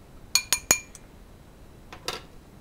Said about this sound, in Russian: Теперь я так вот взбиваю яйцо, одно яйцо с молочком.